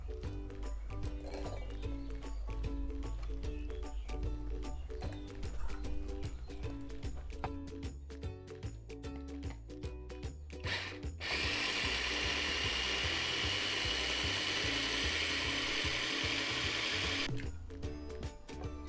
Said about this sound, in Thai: เดี๋ยวเราจะเอา ปั่นเครื่องนะคะ ใส่ลงไปเนาะ